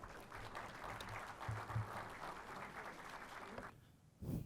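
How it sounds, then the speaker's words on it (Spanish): Applause from a conference audience welcoming a speaker, a steady dense clapping that carries on for several seconds before stopping abruptly, with a short bit of voice or noise at the very end. "Le damos un fuerte aplauso, por favor, para poder iniciar así la presentación."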